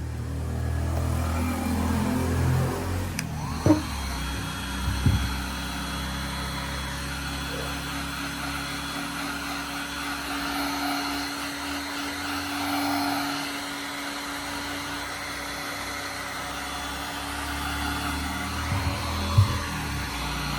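A heat blower shrinking heat-shrink tubing hums steadily and loudly for a long stretch, with a few brief clicks and knocks during use.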